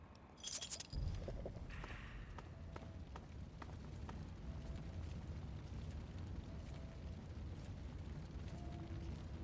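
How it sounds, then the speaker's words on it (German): A car explodes in Fallout 3: a sharp blast bursts out near the start, then a steady rumbling roar continues with scattered clicks and faint tones. "Und das Auto explodiert hinter ihnen."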